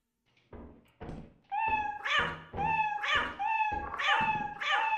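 A cat in the game Lethal Company meows repeatedly, about five or six loud, close calls in quick succession with a few knocks early on, no talking.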